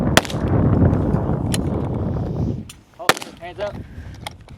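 Pistol shots crack sharply at a shooting competition stage, a few separate loud reports spaced apart amid crowd noise and brief voices.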